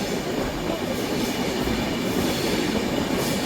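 The NJP–Howrah Shatabdi Express rolling into a junction, a steady loud rumble of wheels on rail with faint clacking and a thin squeal above, continuous and close, no voices.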